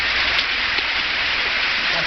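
Heavy rain pouring outdoors, a dense, steady hiss of drops hitting surfaces, loud and close, unbroken across the whole stretch with no voices.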